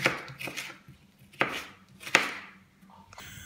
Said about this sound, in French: je les ai tout d'abord coupés dans le sens de la grosseur et je vais les tailler donc en lamelles